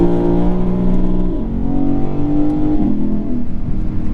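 A 2022 Lexus IS500 engine revving with active sound control switched on, a loud, steady, close engine drone that holds its pitch, then climbs and settles.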